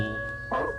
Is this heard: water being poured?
no